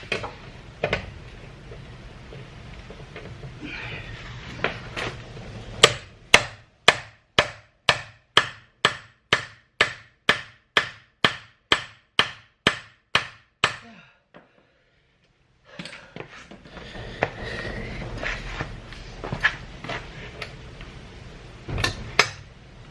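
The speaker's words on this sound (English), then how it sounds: "let's take it to the wheel nut and see if we can crack it off" A wheel nut on a 2010 Peugeot 207 HDI is cracked loose with a ratcheting tool, a fast run of sharp, evenly spaced clicks up close, then a pause and more scattered clicking and handling noise.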